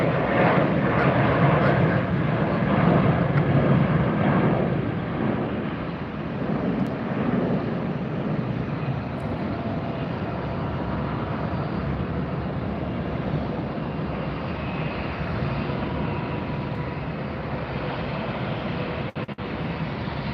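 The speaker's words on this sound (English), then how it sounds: "Beautiful takeoff of a beautiful livery there." A jet airliner in a distinctive livery takes off from runway 19 right at Tampa airport, a steady, broad engine roar that holds loud for the whole stretch with light wind noise.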